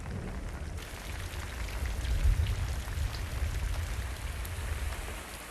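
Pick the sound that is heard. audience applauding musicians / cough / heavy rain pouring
heavy rain pouring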